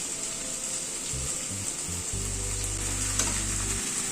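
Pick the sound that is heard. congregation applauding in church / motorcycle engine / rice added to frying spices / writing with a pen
rice added to frying spices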